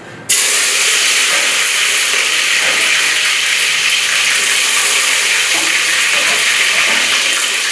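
Tomato and onion drop into hot oil for a soumbala sauce, bursting into a loud, sudden sizzle that holds as a dense, steady hiss right up close, with no voices.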